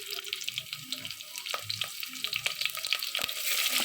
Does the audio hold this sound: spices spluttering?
yes